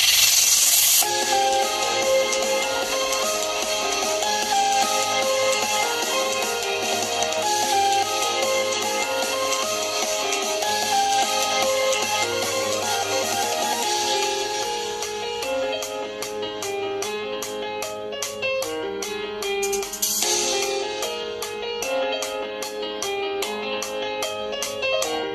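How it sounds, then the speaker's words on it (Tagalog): A Realme Note 50 phone plays music through its single built-in speaker. The sound is steady, close and continuous, with a bright, thin tone and no talking. "Ito ang tunog ng speaker."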